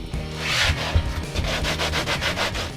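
Dust being rubbed into distressed leather boots, a close, steady scraping and rubbing with rhythmic strokes that quicken toward the end, no talking.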